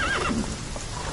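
Roach, Geralt's horse in The Witcher 3, whinnies loudly over steady game ambience, with hoof clatter mixed in throughout the short burst.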